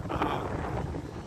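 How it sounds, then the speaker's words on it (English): Gusts of wind buffet a microphone outdoors in Costa Rica, a loud continuous low rumble and rushing noise with no talking over it. "It is too windy."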